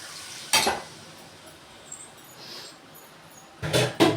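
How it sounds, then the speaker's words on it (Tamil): A spoon scrapes through tamarind curry as boiled pudikarunai pieces are stirred in. Three short, distinct scraping strokes break an otherwise quiet background. "நல்லா இந்த மாதிரி கிளறி விட்டுக்கலாம்"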